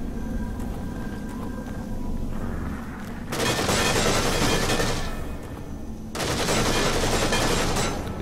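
Bursts of heavy automatic gunfire in The Evil Within, two long dense volleys separated by a short lull over a low rumbling background, loud and close with no talk.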